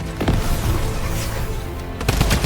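Gunshots in a multiplayer shooter video game, a rapid volley of sharp cracks in a busy, loud mix, with a fresh burst near the end.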